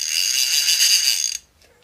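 A fishing reel's ratchet clicks rapidly and steadily as line is pulled out, close and crisp, then stops abruptly.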